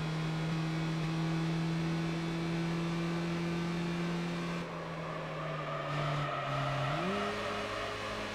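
Car tires squeal in Gran Turismo 4 Prologue, a steady high whine sustained for several seconds under engine drone, then dipping and climbing again as the car slides and recovers.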